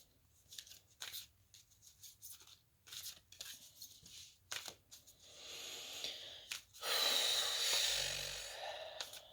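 Large tarot cards being shuffled by hand, a run of dry papery riffles and rubs in quick bursts, ending in a louder, denser stretch of shuffling close to the listener.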